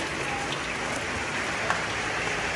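Steady rain falls during the rainy season at an outdoor guppy-rearing setup, a dense continuous hiss of drops on surfaces, even and close with no pauses.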